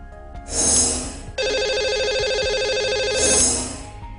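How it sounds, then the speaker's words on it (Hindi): A telephone rings out during a Hindi radio call-in show, an outgoing ringback with two long trilling rings separated by a steady tone, loud and clear with no talk over it. "तो लगाते हैं इन्हें कॉल और करते हैं बात"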